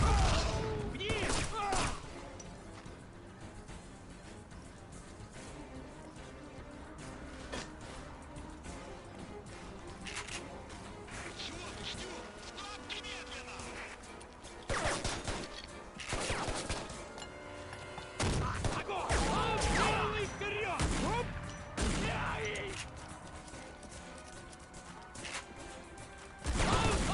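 Shotgun blasts and other gunfire in the shooter game Shadow Ops: Red Mercury, heavy and repeated in clustered bursts over a dense battle din, with voices talking throughout.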